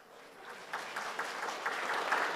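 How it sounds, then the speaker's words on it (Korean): Applause from a church congregation during a Sunday service, quiet and distant, building gradually with soft scattered claps over a couple of seconds. "큰 박수 해주세요."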